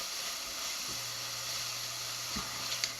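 Onions frying in a pan for perogy filling, a soft steady hiss close by with a faint low hum running through and a small clack near the end.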